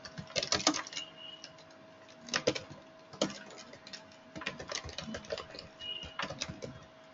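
Fingers tap out an SQL query on a computer keyboard in quick clustered bursts of soft clicks with short pauses between, close and quiet.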